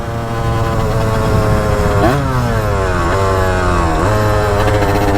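Close motorcycle engine, a 75cc small-bore bike, running steadily then revved in three quick blips around the second, third and fourth seconds, pitch sweeping up and dropping back each time.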